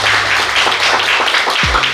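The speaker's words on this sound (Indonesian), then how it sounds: "Kasih tepuk tangan dulu untuk Geprek Mantul" Group applause at a halal bi halal staff gathering for a fried-chicken restaurant, a fairly loud wash of clapping from many hands, steady and then ending with a short low thump.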